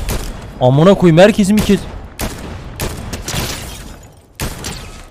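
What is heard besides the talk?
gunfire in the video game Fortnite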